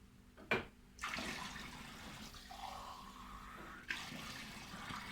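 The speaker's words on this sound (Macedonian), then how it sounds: "Да ја напълнам вода" Water poured into a special sports drinking glass in a home kitchen, a soft, close stream that starts after a sharp knock, runs steadily for several seconds, then ends with another brief clink.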